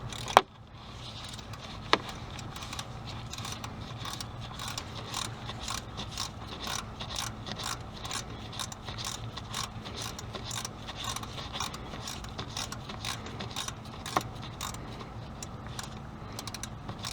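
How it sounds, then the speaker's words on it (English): A flex head ratchet wrench on a 13 millimeter fitting, working on the serpentine belt area of a Ford Explorer, gives a long run of rapid, even clicks in quick strokes, close and steady, with a few louder knocks. "went inside and got a flex head ratchet wrench just to make my job easier"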